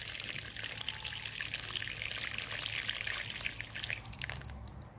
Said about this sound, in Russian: нальем воды. Хорошенечко польем их.